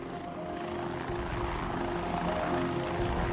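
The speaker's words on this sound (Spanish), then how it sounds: "los helicópteros del Departamento de Seguridad Pública de Arizona recorrieron la ruta programada" A helicopter of the Arizona Department of Public Safety flies over desert terrain, its rotor producing a steady, moderately faint throbbing drone with low pulsing beats throughout, no voices.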